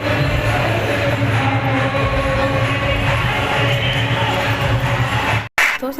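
Dense crowd murmur at Khatu Shyam temple on Ekadashi, a steady wash of many voices and shuffling with a low rumble beneath, continuing loudly before a brief drop near the end.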